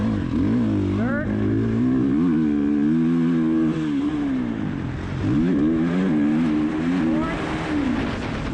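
A vehicle engine accelerates through the gears, its close, continuous drone rising in pitch and dipping sharply at each shift.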